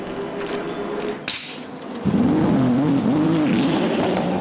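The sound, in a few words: Porsche and Ferrari endurance race cars racing down straight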